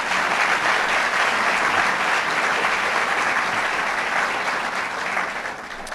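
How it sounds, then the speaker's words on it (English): A crowd at a State of the State address in Jamestown gives a sustained round of applause, loud and dense at first and easing slightly toward the end, with almost no talk over it. "Let's give him a round of applause, Mayor Teresi."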